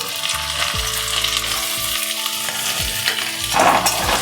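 Tomato added to garlic frying in a pan for a prawn-shell paste dish, steady sizzling with clinks and stirring scrapes, close and alone.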